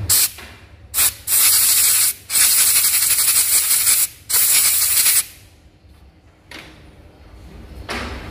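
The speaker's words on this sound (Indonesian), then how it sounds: "akan saya coba semprot ya pakai angin" Compressed air sprayed in short bursts over the dirty, corroded wiring of a Honda Vario 150 keyless scooter, loud hissing blasts with brief gaps between them, then quieter background.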